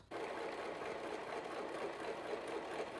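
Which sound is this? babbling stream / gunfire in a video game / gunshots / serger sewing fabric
serger sewing fabric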